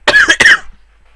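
Two harsh coughs in quick succession, loud and close, from a lingering heavy cough, followed by quiet.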